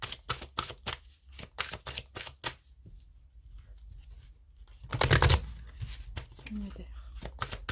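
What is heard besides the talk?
shuffling a deck of cards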